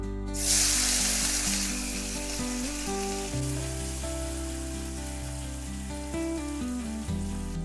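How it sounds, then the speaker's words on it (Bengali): Black cumin and chopped tomato hit hot oil in a pan for Bengali hilsa curry, giving a steady, close sizzle that flares loudly at first and then settles under prominent background music. "এবার তেল দিয়ে দিতে হবে তারপর দেবো কালো জিরে টমেটো কুচি দিয়ে দেবো"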